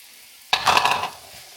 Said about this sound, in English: we're just going to go warm this up along with our veggies. In with our brisket.